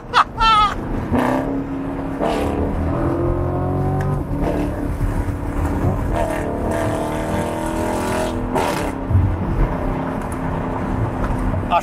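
A Corvette C8 Stingray drives and accelerates, its engine note climbing through repeated revving pulls, with loud bursts and passing whooshes over steady road rumble.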